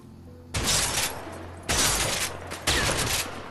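Three loud, booming shotgun blasts in the A Way Out prison-break video game, each a sharp broadband burst that rings out for about a second, evenly spaced with no talk over them.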